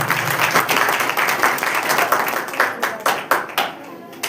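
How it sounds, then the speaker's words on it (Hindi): A church congregation claps together loudly in a dense, rhythmic burst that gradually thins into scattered individual claps, with a voice speaking over it. "सभी लोग जोर से तालियां बजाएं।"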